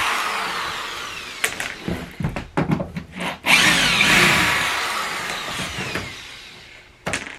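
A power drill removes screws from a damaged half pipe skate ramp, whirring in several short bursts and then one longer sustained run close by, with no talk.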